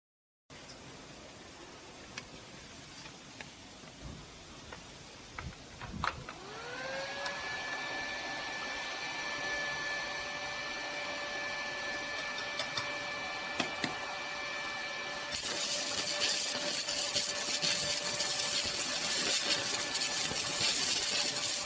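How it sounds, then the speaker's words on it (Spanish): Mini inverter welder striking an arc at minimum current with a 2 mm electrode, giving a steady hiss and high whine that rises sharply partway through and holds a loud, even crackle to the end. "Comprobemos el encendido del arco a la corriente mínima."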